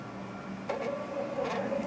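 A Zebra label printer runs alongside another Zebra model, the ZM400, giving a steady mechanical whir with a couple of brief rising whines, close and continuous with no talking.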